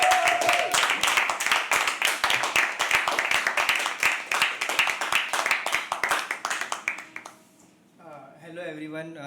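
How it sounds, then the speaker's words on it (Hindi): An audience at a live poetry open mic at The Habitat claps for the poet Smaran, a run of loud, distinct handclaps that thins out and stops, followed by a little talk. "Smaran के लिए एक बार जोरदार ताली."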